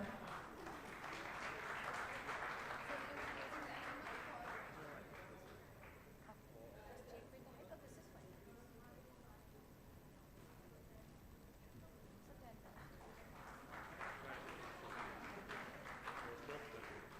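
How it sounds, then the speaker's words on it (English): A conference audience at a golden jubilee celebration applauds, swelling clapping that fades in the middle and builds again toward the end, with murmured voices beneath it in a large hall. "Please, a big round of applause,"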